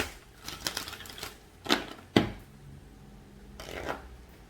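Oracle cards from a Light Worker Oracle deck are shuffled by hand in a few quick, crisp riffling bursts separated by short pauses, close and clear.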